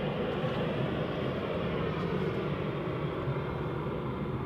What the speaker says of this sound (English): If I hear an A320 with CFM 56s flying over, you can always tell